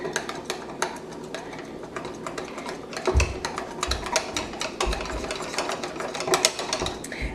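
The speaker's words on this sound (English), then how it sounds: "Give it a quick whisk." Whisking ingredients for vegan banana pudding in a bowl: quick, uneven clicks and taps of a whisk against the bowl, moderately close, with no voices.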